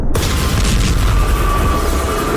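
A heavy missile-strike explosion in Gaza, a loud deep boom opening the clip and rolling into a long rumbling tail.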